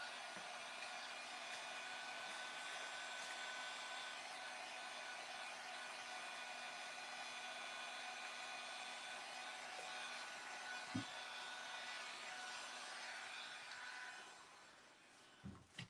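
A hair dryer runs steadily at low, distant-sounding volume to dry craft paint on a jewelry box, a constant whirring hum that continues for most of the stretch before cutting off near the end with a few light knocks.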